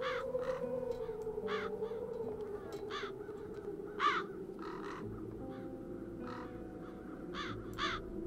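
Crows caw repeatedly in the video game Chains of Satinav, a series of harsh, evenly spaced calls, some near and some farther off, over a soft droning music bed.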